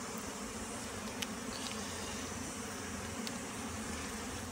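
Honeybees buzzing around beehives at a beekeeper's site, a steady low insect drone filling the whole stretch with no speech, a couple of faint brief ticks over the hum.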